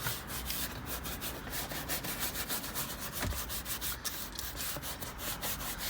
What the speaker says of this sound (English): because those particles of dust, dirt and grime will scratch your leather as you're going over the surface with the brush.